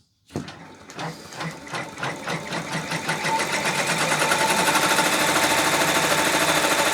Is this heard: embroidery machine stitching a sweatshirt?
yes